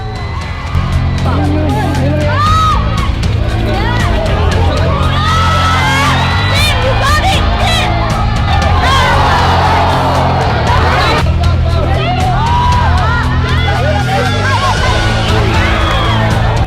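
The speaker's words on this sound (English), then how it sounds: "Malaysians weren't just cheering for DC Spartans then as well. They were cheering for Malaysia." Malaysian crowd at an ultimate frisbee match, whooping, cheering and shouting continuously, with children's voices and babble in a loud, busy mix.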